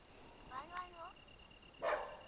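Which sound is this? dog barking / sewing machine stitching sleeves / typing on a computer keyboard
dog barking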